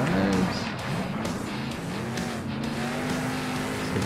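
Monster truck engine roaring steadily in Monster Jam: Steel Titans as it pulls a wheelie, a loud sustained rev with rising and falling pitch and some tire noise, continuous throughout.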